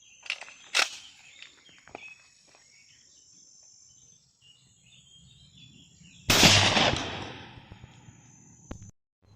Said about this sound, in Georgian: ვისვრით იგივე ვაზნას.